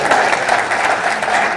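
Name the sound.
audience clapping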